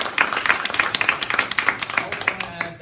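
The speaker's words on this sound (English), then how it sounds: "So if you can all give a round of applause for our panelists." An audience applauds a panel after a discussion, with a smaller crowd's scattered, uneven claps close by, fairly loud and tapering off toward the end.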